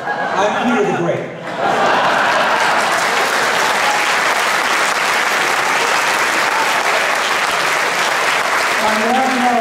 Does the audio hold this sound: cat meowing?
no